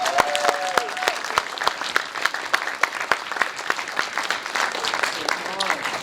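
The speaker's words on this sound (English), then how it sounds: "Can we get a round of applause for them?" Scattered audience clapping at a film award ceremony, individual claps clearly separate and fairly close, with a voice briefly heard over it.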